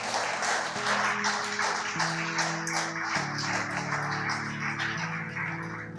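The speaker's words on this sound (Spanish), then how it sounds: "¿Cuántos le dan un fuerte aplauso al Señor?" A church congregation claps steadily through the whole stretch, a dense even patter of many hands, while sustained keyboard chords play underneath.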